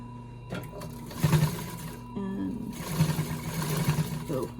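Old Singer sewing machine stitching a fabric mask cover in bursts of rapid mechanical whirring, close by, with a pause between runs and a voice talking over it.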